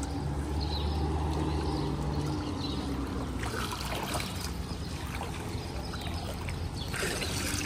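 Water pours steadily into a flooding house, a continuous loud rushing and trickling wash with scattered splashes and clatter throughout.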